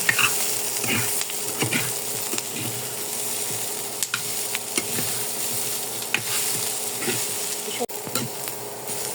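Vegetable bhaji frying in a pan, steady soft sizzle with repeated light scrapes and clicks of stirring, moderately close with no talk.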